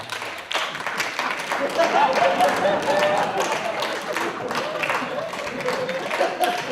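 Audience clapping at an awards gala, a mid-level scattered round of applause with crowd murmur and a voice speaking over it, lasting throughout at moderate loudness.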